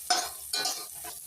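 Coriander and curry leaves sauté in a pan, giving a steady close sizzle with two or three bursts of stirring scrapes, no voices.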